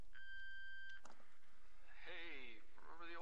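In the video game Ether One, an answering machine gives a long single electronic beep, and then a recorded voice message begins, slightly muffled and tinny.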